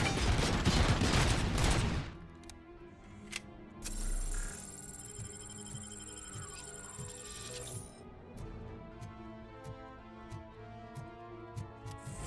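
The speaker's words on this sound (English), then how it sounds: "Apparently he's invincible, even though I'm shooting his fucking helmet." Rapid gunfire bursts in RoboCop: Rogue City, a sharp loud volley at the start followed by lighter repeated shots and clicking mechanical ticks, with no talking over it.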